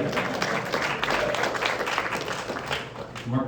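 Audience applause at a press conference at a Vine City Walmart in Atlanta, a dense, steady crowd clapping held at a fairly loud level throughout, with voices mixed in.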